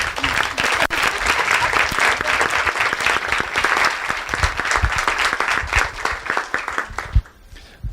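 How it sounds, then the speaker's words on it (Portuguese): Audience applause at a visual arts seminar, a dense steady burst of many hands clapping that carries on for several seconds and then stops abruptly near the end. "Aplausos, né?"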